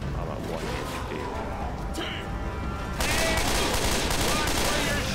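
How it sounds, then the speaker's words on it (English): Dense, continuous gunfire and in-game combat noise from the zombie shooter Left 4 Dead, loud and unbroken, growing harsher and brighter about midway, with voices mixed in. "Watch where you're shooting!"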